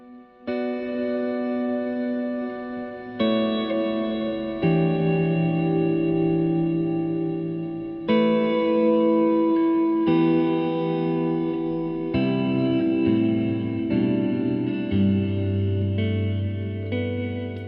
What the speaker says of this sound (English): My Afterneath pedal